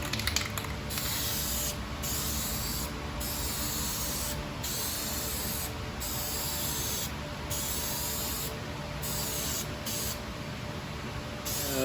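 Aerosol spray paint from a Dupli-Color GM exact-match can hisses steadily as a third and final coat goes onto a repaired, Bondo-filled area by the third brake light of a 2007–2014 Chevy Silverado or GMC Sierra HD, with brief pauses between passes.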